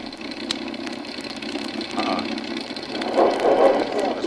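A second airplane engine runs in a radio drama effect, a steady mid-pitched droning rumble that swells slightly louder toward the end.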